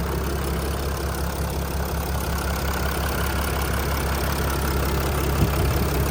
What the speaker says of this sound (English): That's that 3-liter Mercedes engine working away.